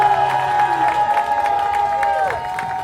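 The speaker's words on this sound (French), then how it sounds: "une nouvelle fois, des applaudissements pour Marie" Crowd at a women's arm wrestling event cheering and clapping between rounds, a loud announcer's voice carrying over the noise while the audience claps along.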